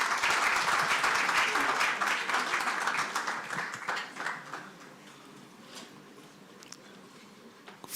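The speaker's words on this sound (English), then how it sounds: "Please give Alamin a big round of applause" Applause from an audience at a memorial celebration of a life, loud, dense and sustained clapping that thins out and fades to scattered claps over several seconds, with a few voices murmuring underneath.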